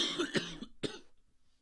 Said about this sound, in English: lot of coughing going on, boys.